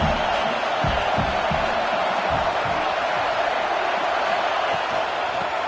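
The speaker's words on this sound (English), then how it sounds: "Listen to this crowd just shaking the girders of this place" Football stadium crowd at a Michigan vs Oregon game roaring steadily to back the defense, a loud, continuous wash of cheering with scattered thuds and shouts underneath throughout.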